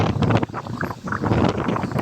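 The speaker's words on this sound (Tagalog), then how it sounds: "Grabing hangin dito." Strong gusts of wind batter the microphone in uneven bursts, loud and rumbling, with no speech, at sea off the Philippines.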